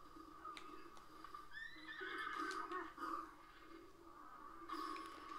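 A horse in The Legend of Zelda video game lets out a long, wavering whinny, moderately close, over a quiet ambient background.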